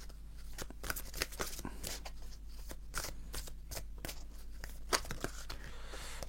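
Oracle cards are drawn and handled from a deck, giving quick papery flicks and soft slaps in an irregular run, close and fairly quiet, with no talking.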